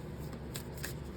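A Moonology oracle card deck being shuffled, a quick, close series of soft papery riffles and flicks, quiet and with no talk.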